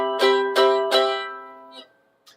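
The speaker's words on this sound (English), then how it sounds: "So a major seventh sounds like this." A major seventh chord on a keyboard, struck three times in an even rhythm, each strike ringing with clear sustained tones before a couple of faint soft knocks at the end.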